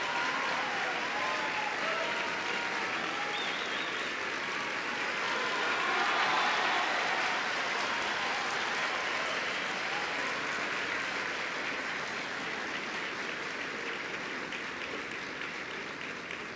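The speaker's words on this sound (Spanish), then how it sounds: "Así es que compartimos ese aplauso los colombianos de bien también." Sustained applause from an audience at a talk, a dense, steady wash of clapping that swells slightly midway and carries on without a break.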